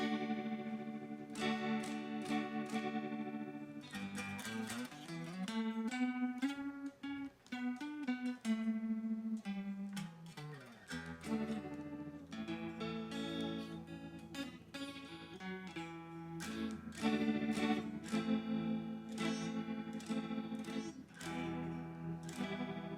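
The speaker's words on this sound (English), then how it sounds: "Trem into a chorus instead." Electric guitar played through a tremolo and then a chorus effect on a Daisy Seed pedal board, producing pulsing, shimmering chords and notes that ring continuously with no talking.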